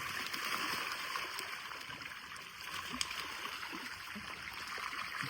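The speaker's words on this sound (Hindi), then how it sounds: "पानी पानी" Water splashing and flowing steadily at a Diwali celebration, a continuous broad rush with a few sharper splashes throughout, fairly close and unbroken by clear talk.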